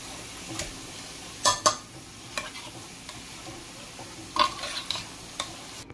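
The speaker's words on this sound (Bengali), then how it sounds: "এখন আমি মাংসগুলো ঢেলে দিচ্ছি মশলার মধ্যে, দিয়ে মাংসগুলো আমি ভালো করে মিক্স করে নেব।" Raw chicken pieces being stirred by hand or spoon into a spice paste with yogurt in a pot for chicken dum biryani; a faint background hiss with a few sharp scraping, clattering bursts of stirring, no voices.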